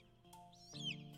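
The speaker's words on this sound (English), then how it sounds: "Heard a bird." A bird call in the video game Niche, a brief, faint rising chirp heard alone over a quiet tonal game background.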